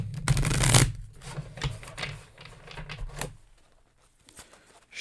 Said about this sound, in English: think of it now while I'm shuffling